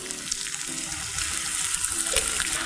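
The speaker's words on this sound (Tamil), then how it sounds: "இதில் கொஞ்சமாக தண்ணி சேர்த்துக்கிறோம்." A little water poured into a hot pan while cooking chilli chapati, a steady close running splash and faint sizzle lasting throughout.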